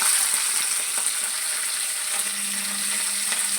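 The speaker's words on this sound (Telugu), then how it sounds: "వేరుశనగ గుళ్ళు వేగుతున్నాయి కదా, పచ్చిమిరపకాయలు కూడా వేసుకోవాలి" Peanuts and green chillies fry in hot oil, giving a steady, close sizzle with a constant bright hiss and faint crackles throughout, no voices.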